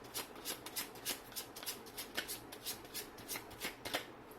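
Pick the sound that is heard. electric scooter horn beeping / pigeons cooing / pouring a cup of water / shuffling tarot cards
shuffling tarot cards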